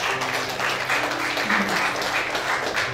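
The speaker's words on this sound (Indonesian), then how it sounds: "Berikan tepuk tangan yuk bagi Tuhan" Applause from a church congregation at a Sunday worship service, a steady wash of many hands clapping together for about three seconds, moderately loud, with faint tonal hum or music beneath.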